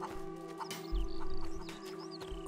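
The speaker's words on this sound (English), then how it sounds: "Oh, chickens." Chickens clucking in the video game A Plague Tale: Innocence, several short bird calls scattered over a low steady ambient hum, with a soft thump partway through and no talking.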